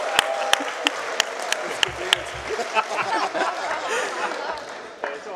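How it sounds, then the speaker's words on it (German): Crowd applause at a state Green Party conference in Siegburg, broad clapping with a few sharp near claps at first, then blending with murmured chatter and light laughter, fading slightly toward the end. "Ein Applaus für Martin Hase."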